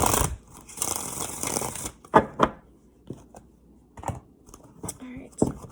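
Crisp riffling and slapping of tarot cards being shuffled in quick bursts, followed by softer scattered taps and shuffles.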